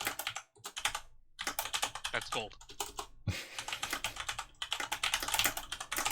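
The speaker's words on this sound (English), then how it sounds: "Everything, I typed everything you just said." Rapid clattering keystrokes on a computer keyboard, close and fairly loud, running in quick irregular bursts with short pauses while a voice talks over them.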